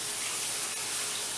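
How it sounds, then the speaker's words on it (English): Hot water drains and rushes into a kitchen sink, a steady broadband splashing gush heard up close and alone, with no voices. "I'll just set it down in the sink here so it'll drain out all this water."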